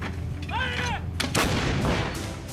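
An upgraded Indian Army Sarang 155 mm artillery gun fires a round. It lets out one loud, close, sharp blast that rolls into a rumbling decay over noisy outdoor background.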